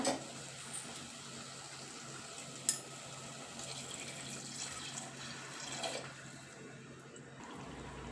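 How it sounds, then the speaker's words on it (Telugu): Water is poured into a pot of paya curry on a stove turned up high, a faint steady trickle and splash with a few small knocks. "నీళ్ళు పోసుకోవాలి."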